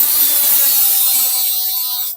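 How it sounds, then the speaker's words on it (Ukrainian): An angle grinder cuts through transformer steel and throws sparks, making a loud, harsh, high-pitched grinding whine that holds steady for about two seconds and then cuts off abruptly. "перва відмінність, якою саме легше це все зробити, це болгарка і іскра."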